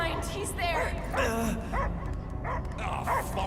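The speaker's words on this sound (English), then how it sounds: "I hear only barking." Dogs bark and whimper in the video game Marvel's Guardians of the Galaxy, fairly loud and repeated, mixed with game sounds.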